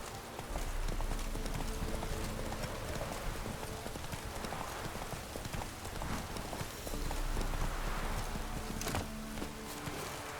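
Horse hooves in The Witcher 3 video game, a steady clip-clop of a walking mount with even repeated strikes over an ambient outdoor bed, fairly faint and continuous.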